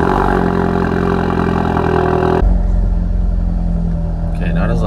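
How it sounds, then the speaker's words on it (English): Ford Focus RS with an aftermarket exhaust starting for the first time: a loud, dense engine rumble that shifts abruptly partway through to a deeper, steadier idle, with a voice briefly heard near the end. "First start, let's go."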